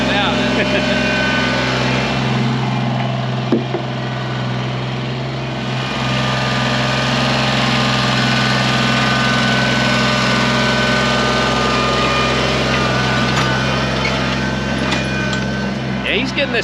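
A small tractor engine runs steadily while dragging and smoothing dirt in a yard, a constant loud droning hum with a light high-pitched whine and no break in the noise.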